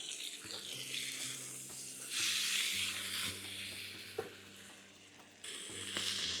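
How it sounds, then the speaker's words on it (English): Pork browning in a pan for a bamboo stir fry, a steady broad sizzle running throughout with a few sharp clicks and scrapes, while low tonal hum and steady outdoor noise sit underneath. "we'll just brown off our meat"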